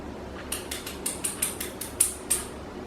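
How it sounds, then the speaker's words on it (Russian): A whisk beats egg yolks with vanilla for a Japanese cotton cheesecake, giving a quick regular run of about a dozen light metallic clicks against the bowl, close and crisp. "Сначала я взобью желтки"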